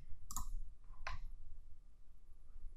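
Two crisp computer mouse clicks, close and fairly quiet, spaced under a second apart over faint room hum.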